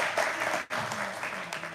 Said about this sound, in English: Please, can we clap for the video?